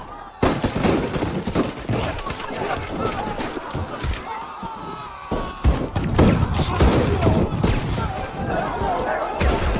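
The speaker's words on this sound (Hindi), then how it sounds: "तभी अचानक गोलियों की आवाज आती है" Dense, rapid gunfire in a volley sound effect, with repeated shots and thuds that crackle steadily for about ten seconds and sit under a voice speaking.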